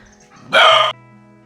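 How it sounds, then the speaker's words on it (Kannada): A single short, loud dog bark close by, rising sharply and then stopping, with a quiet indoor background before and after. "ಇಲ್ಲೊಂದು ಕ್ಯೂಟ್ ಆದಂತಹ ನಾಯಿ ಉಂಟು"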